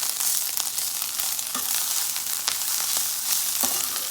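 Bitter melon (karela) slices fry in oil in a pan, a steady close sizzle with scattered sharp pops and crackles throughout, no voices.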